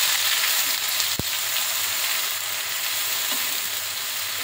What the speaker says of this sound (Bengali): পেঁয়াজটাকে ধৈর্য নিয়ে ভাজতে হবে, বেশ খানিকক্ষণ পেঁয়াজটা ভাজতে হবে।